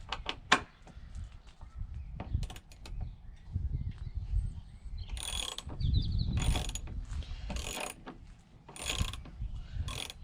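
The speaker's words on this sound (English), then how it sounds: "Just grabbing me ratchet." Mechanic's ratchet wrench working on a Volvo suspension mount, giving rapid clicking bursts among clanks and rustling tool handling, close and moderately loud with no talk.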